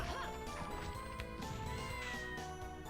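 In Castlevania: Order of Ecclesia, an in-game cat gives a few brief meows amid busy background music and percussive hits, the calls partly buried in the mix.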